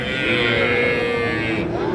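A young calf at a village cattle market gives a single long, loud, close moo that fills the clip before tapering off.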